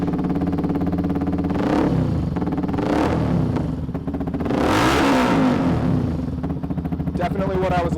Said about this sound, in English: So we finished up the installation of the high-performance Benelli exhaust. This thing sounds great.